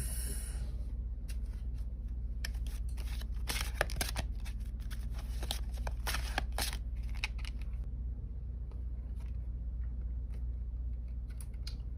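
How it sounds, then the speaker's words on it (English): Oracle cards are shuffled and pulled from a deck in quick, close bursts of riffling and flicking snaps, dense at first and then thinning to sparse taps, with no talking. "now I am going to pull some oracle cards"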